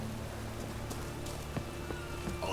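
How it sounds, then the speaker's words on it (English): Rain patters steadily in The Witcher 3, a soft, even spatter of drops on the ground with a few faint knocks and footfalls mixed in, fairly quiet and without speech. "And it's raining again."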